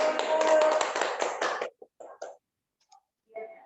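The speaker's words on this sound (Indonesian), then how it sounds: "Tepuk tangan untuk kita semuanya" A group of women teachers at an early-childhood teachers' gathering in Yogyakarta clap their hands together in a dense, brisk burst for under two seconds, followed by a few faint scattered sounds and quiet.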